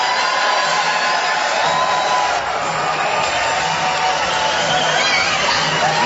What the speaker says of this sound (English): You hear the crowd appreciate the effort by Arceo.